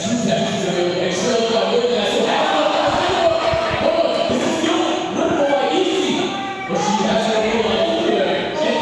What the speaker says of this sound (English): I believe you guys can hear that. Crowd is electric here.